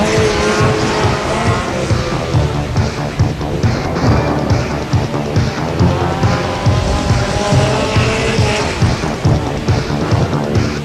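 BriSCA F2 stock cars race in the 1998 World Championship Final, a loud, unbroken roar of many engines with tyres scrubbing and skidding on the track, with no talk.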